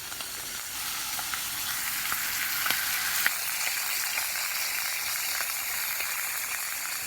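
A steak frying in butter in a pan gives a steady, loud sizzle that fills the whole stretch, with occasional faint clicks and scrapes as the meat is moved.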